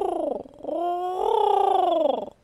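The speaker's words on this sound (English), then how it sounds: "That's my pigeon." A pigeon in the GTA RP video game gives one loud, close, rolling coo, a brief dip and then a longer sustained warbling coo, with no talk over it.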